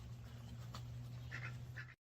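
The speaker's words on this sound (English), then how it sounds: "Ducks are not afraid of the dogs" Ducks quack in a few short bursts, with a steady low hum running underneath, in a yard where ducks live alongside dogs.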